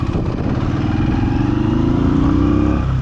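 Motorcycle engine running in gear on a ride through the Kaz Mountains in freezing weather: a loud, steady close-up engine hum with a pulsing rhythm that rises slightly in pitch, with no talking.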